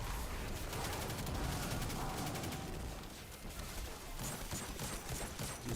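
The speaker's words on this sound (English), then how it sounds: "Dude, these snipers, bro." Sniper rifle fire in the video game Destiny, heard as dense, continuous shooting with clustered sharp cracks over game ambience across the whole stretch, fairly loud with no talking.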